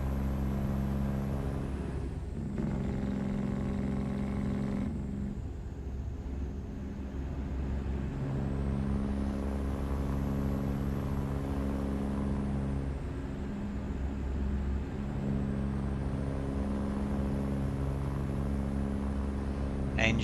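Cummins Gen 2 620 truck engine in the American Truck Simulator game, a steady low diesel drone with a slowly shifting pitch and a brief hiss partway through, continuous and fairly close.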